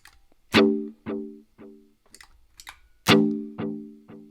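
An electric guitar runs through an analog delay effect on a Zoom multi-effects pedal. Short plucked notes each trail off in quieter fading repeats, in two similar phrases separated by a few muted picks.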